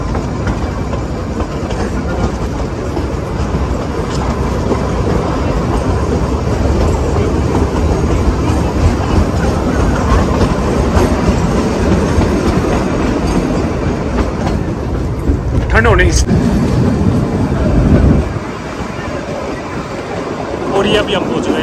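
The Kalka–Shimla toy train runs along the mountain railway with a loud, steady rumble and wheel clatter that continues throughout, rising briefly before dropping to a quieter roll near the end.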